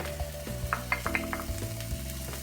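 Chilli powder and paprika sizzling in a hot pan as they are stirred, a steady crackling fry with a low hum beneath and soft scrapes from the stirring, no voices.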